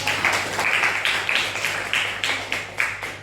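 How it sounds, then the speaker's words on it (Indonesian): A small classroom group applauds a student named Mega, the claps falling in an even, measured rhythm of distinct strikes at moderate loudness, with no speech over them. "Beri tepuk tangan untuk Mega."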